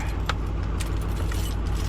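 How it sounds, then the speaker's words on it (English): Keys jangling as a set is worked off a key ring inside a Chevrolet Duramax diesel truck on a cold morning, a few sharp metallic clinks over a steady low engine or cabin rumble. "I gotta get this other set of keys off of here."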